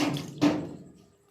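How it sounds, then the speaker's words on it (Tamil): A short splash of water poured into a pot, two quick gushes that fade away within about a second, fairly quiet and with no voices. "தண்ணி ஊற்றி வச்சுட்டேங்க பாருங்கள்"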